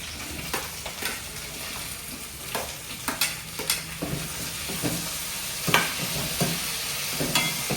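Chilli and onion fry in a pan with a bubbling sizzle, broken by frequent scraping and tapping strokes of a stirring spoon in an uneven rhythm; close and moderately loud, with no voices.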